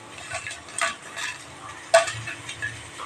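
Dry red chillies roasting with rock salt in a pan, with scattered scraping stirs and grainy rattles against the pan, quiet and close with a sharper knock near the middle.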